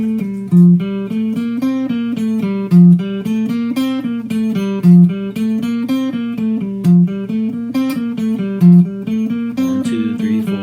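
A guitar plays a major scale exercise, cycling groups of four notes upward in an even, steady rhythm. The plucked notes are close and clear, with a slightly accented beat repeating every couple of seconds and no talking.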